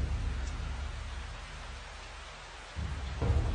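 Steady rain falls outside a balcony while low rumbles of thunder roll in, with a heavier thunderclap swelling near the end.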